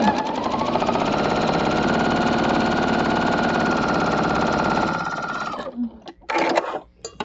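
A sewing machine runs steadily, stitching a patriotic star quilt block along a diagonal for about five seconds, then stops, followed by a few faint handling clicks and rustles.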